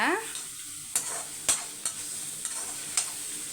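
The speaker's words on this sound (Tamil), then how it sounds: "இந்த நண்டை இடித்து வச்ச நண்டை நீங்கள் சேர்த்துக்கோங்க மிக்ஸ் பண்ணி எடுத்துக்கோங்க" Crushed crab is stirred into frying masala in a pan, a soft continuous sizzle broken by a few sharp spoon scrapes and knocks against the metal.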